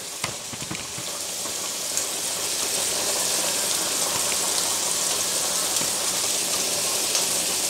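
Shrimp sizzle in a hot pan during dinner preparation, a loud, continuous hissing crackle that stays steady throughout without talking.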